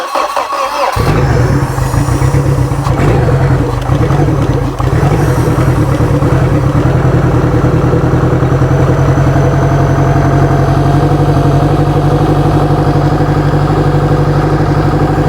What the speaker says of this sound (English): just giving it a little fuel, giving it a little throttle.